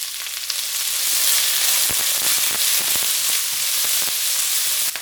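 Minced garlic and sliced red and yellow peppers sizzle loudly and steadily in a stir-fry pan for a beef udon dish, a continuous close frying hiss with a few crackling pops.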